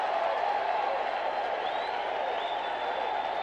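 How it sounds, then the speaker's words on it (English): Baseball stadium crowd at an Orioles home game against the Rangers in 1986, cheering and applauding as the bases are loaded. The roar is steady, broad and moderately loud, coming from a distance, with a faint whistle rising partway through. "Listen to the crowd."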